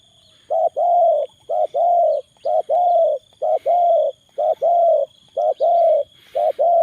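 Doves kept as trained birds coo loudly and close by in a steady, repeating rhythm of paired and single notes, with a faint high steady tone behind them.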